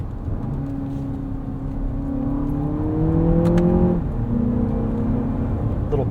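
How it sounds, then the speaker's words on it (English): Lexus TX 500h F Sport engine blipping on paddle-shift downshifts, heard from inside the cabin as a steady drone that rises in pitch, drops sharply, then settles again, close and moderately loud with no talking. "Little blips on downshifts there."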